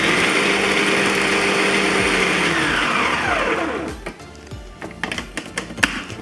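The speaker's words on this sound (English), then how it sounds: "So first we're going to crush onion and then we're going to crush vegetables." Kitchen blender crushing onion for meatballs, a loud motor whir with chopping churn that winds down after about four seconds, followed by a few quieter pulses and knocks.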